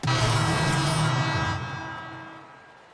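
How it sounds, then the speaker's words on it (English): A basketball arena crowd cheering for the home team in the NBA 2K16 video game at Oracle Arena, a loud roaring swell at the start that fades over a few seconds. "the crowds at Oracle Arena look to cheer on the hometown Warriors"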